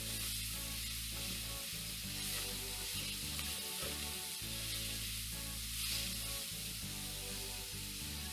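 Onions, carrots and peppers sauté in a pan for shrimp and grits, hissing in a dense continuous sizzle with occasional stirring sounds underneath.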